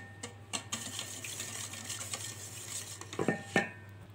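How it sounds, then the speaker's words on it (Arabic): A spoon stirs sugar into oil in a bowl to dissolve it, a soft scraping swirl at close range with a few sharper clinks against the bowl near the end, no voices. "ندوب بس السكر كويس جدا كده بالشكل ده"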